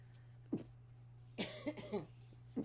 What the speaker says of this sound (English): I'm sorry, I can't stop coughing.